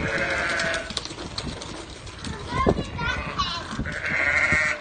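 Sheep bleat on a farm at lambing time, several overlapping calls near and loud, mixed with people talking and general yard noise.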